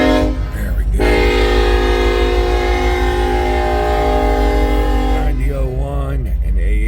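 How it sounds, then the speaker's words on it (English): Union Pacific westbound manifest freight train led by SD70AH locomotives, a loud sustained air horn blast close by over the rumble of the passing train, with a second short horn sounding near the end. "Leading what looks to be a manifest train westbound on the Union Pacific Blair Fremont"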